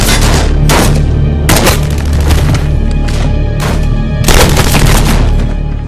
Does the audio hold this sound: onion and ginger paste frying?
no